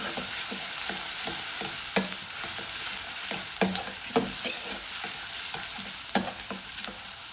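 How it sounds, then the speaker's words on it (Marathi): Onion, ginger and garlic sauté in a pan with a steady, bright sizzle, broken by repeated scraping and tapping strokes as the mixture is stirred. "कांदा आलं लसूण जरा परतून घ्यायचा आहे"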